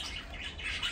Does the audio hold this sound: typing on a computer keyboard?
no